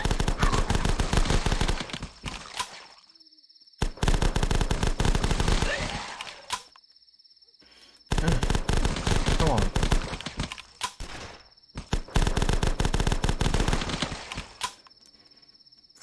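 Automatic gunfire from the video game The Last Stand rips out in four long, loud bursts separated by brief pauses, with a voice speaking briefly.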